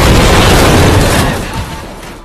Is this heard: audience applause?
no